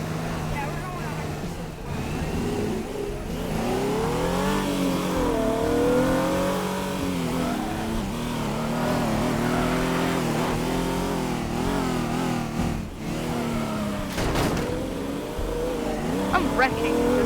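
Car engines rev and rise and fall in pitch in the vehicle-destruction game Teardown, with rapid acceleration sweeps and a brief crunch near the end, while players talk over the engine noise throughout.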